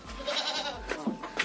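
A goat that has just given birth bleats in a farmyard near banana plants, giving a few short, close calls with no talk over them.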